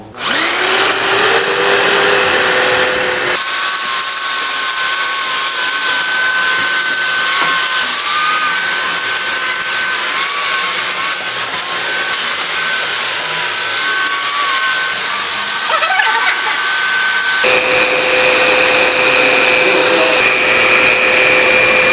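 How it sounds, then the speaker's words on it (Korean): A Porter-Cable long-neck wall sander fitted with 120-grit paper runs without pause, giving a loud, steady motor whine over the grinding hiss of abrasive on the wall surface. "제가 지금 1차적으로 일단 샌딩 120방을 사용해서 지금 월샌더를 한번 사용을 한 상태고요"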